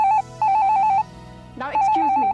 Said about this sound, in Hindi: टेलीफोन की घंटी बज रही है और शायद मेरा ही फोन होगा